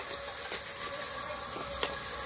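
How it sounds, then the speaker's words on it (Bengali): Pitha made from leftover rice frying in hot oil, a steady hissing sizzle that holds even throughout with a few small pops and spits. "আমি এখানে আরো কিছুটা ভেজে নিচ্ছি"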